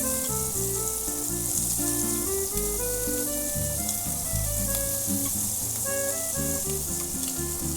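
Shrimp sizzling steadily in a frying pan with too little oil, a continuous close crackle and hiss holding at an even level, with no talking.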